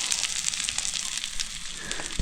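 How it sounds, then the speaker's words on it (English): Food sizzles over heat at a riverside campsite along the Tug Fork River, a close, steady crackle and hiss with scattered sharp pops throughout. "you sizzle your little heart out. Sizzle all you like."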